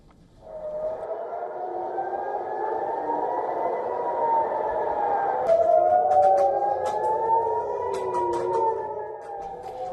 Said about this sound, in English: Air raid sirens were heard in Jerusalem and nearby West Bank towns